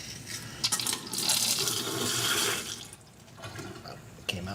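Water gushes from a newly installed pull-down kitchen faucet with bursts of sputtering and hissing as trapped air escapes, loud and uneven, then settles into a steadier flow.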